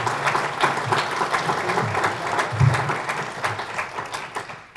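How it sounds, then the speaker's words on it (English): An audience at a housing summit applauds a panel with a dense, steady burst of clapping that gradually fades out. "Let's round of applause for the panel."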